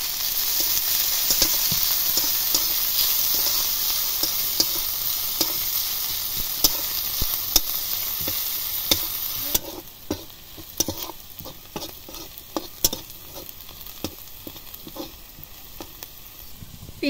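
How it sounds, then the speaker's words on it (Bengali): Onion, garlic and ginger frying in a pan, a steady loud sizzle through the first half that drops to a quieter crackle, with repeated scraping taps of a spatula stirring throughout. "রসুন কুচি, আদা কুচি দিয়ে ভালোভাবে নেড়ে চেড়ে ভেজে নেব"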